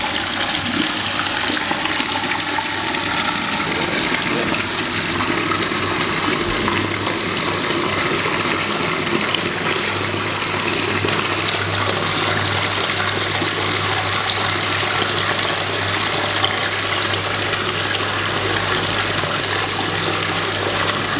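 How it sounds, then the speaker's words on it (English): A pond pump runs with water pouring and splashing continuously, a loud, steady rushing wash of flowing water alongside a low mechanical hum, with no talk. "There we go, that's that pump running."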